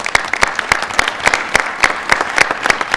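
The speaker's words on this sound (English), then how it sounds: "Let's give them a big round of applause." Applause from an audience at a council meeting, a steady patter of many hands clapping at moderate distance, sustained through the whole stretch with no talk over it.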